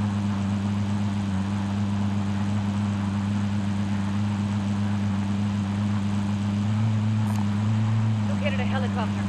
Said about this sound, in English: Located a helicopter.